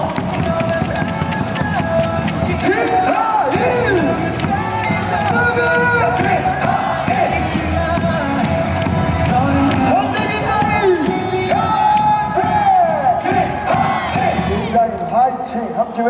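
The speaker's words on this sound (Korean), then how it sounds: "우리 김다희 선수에게 박수 보내주세요" Basketball arena crowd clapping and cheering for a player, dense roaring babble with shouts and a voice talking over the noise throughout.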